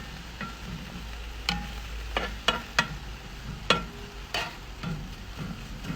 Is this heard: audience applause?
no